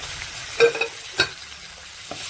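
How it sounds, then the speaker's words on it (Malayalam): Prawn cheriyulli roast masala sizzles gently in a pan as tomato goes in, with a few brief stirring scrapes standing out over the steady low fry. "ഇതിലേക്ക് തക്കാളി ഇട്ട് കൊടുക്കാം."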